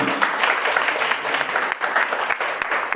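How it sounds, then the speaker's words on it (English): Seminar audience clapping in a hall, a dense steady wash of many hands at close range that holds for the full few seconds without pause. "All of us can give a big applause."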